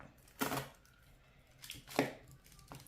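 A knife cuts through cheesy garlic bread resting on foil, giving two quiet crunchy slicing strokes with a softer crackle between them and near silence around them.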